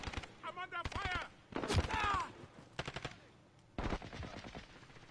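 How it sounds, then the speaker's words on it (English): Rapid machine gun bursts in a Call of Duty shooter game, several loud rattling volleys separated by brief gaps, with game voices shouting in between. "I'm under fire!"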